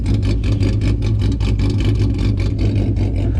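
A car engine idling with an idle chop mod, close and loud, its lumpy, rhythmic loping pulses repeating steadily about three to four times per second with no talking.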